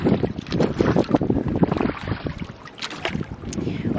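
Oars rowing a dinghy on open water, with dense splashing and rushing water close to the microphone, under steady wind noise and no talk.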